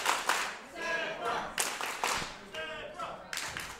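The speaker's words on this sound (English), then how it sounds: "They're cheering his name already" A wrestling crowd at a 2007 bout clapping and cheering in rhythmic bursts, with a voice talking over the noise.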